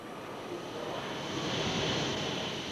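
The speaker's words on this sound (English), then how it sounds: "an aircraft of great aerodynamic beauty that's really a flying test bed" A British Aerospace fighter test aircraft flies at Warton in northern England, its engine making a steady broad roar that swells slightly and holds with no voices.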